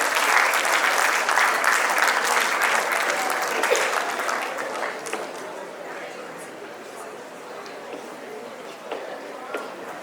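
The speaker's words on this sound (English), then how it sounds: "Let's give a big round of applause to them." A crowd applauds steadily, a dense wash of clapping that fades slightly toward the end.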